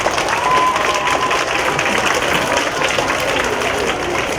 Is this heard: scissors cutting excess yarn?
no